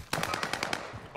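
Rapid bursts of AK-47 automatic fire in Call of Duty Warzone, about six loud close shots in a quick steady rhythm, with no talk over them.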